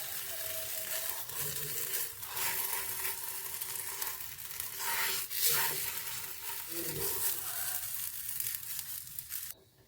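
Carrot patishapta crepe with its filling frying in a pan, giving a steady close sizzle with scraping and rustling bursts from the spatula that stop abruptly at the end.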